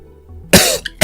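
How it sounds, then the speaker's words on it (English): A single short cough followed by a quick sharp hiccup-like catch and then a second cough burst, close and loud with no talking. "I just hiccuped while I was coughing."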